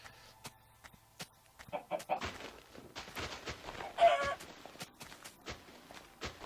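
Chickens clucking in the Minecraft video game, short scattered bursts of game animal calls, fairly close and moderately loud, with no talk over them.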